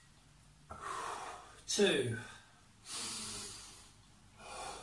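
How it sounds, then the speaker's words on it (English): Deep breaths taken during active rest in an upper and lower body workout for children and families: three long, close, breathy inhales and exhales, with a voice counting briefly between them. "that active rest where we're taking three deep breaths"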